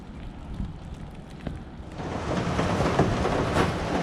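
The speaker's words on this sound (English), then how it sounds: "it's raining quite a lot" Steady broadband hiss of rain falling, growing heavier and denser partway through, with no voices.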